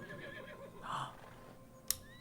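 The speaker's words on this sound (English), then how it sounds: "We should find some more horses to make noises at" A horse or donkey neighs once in the video game Everything, a quiet, brief whinny in the middle of a soft ambient background, followed by a short sharp tick.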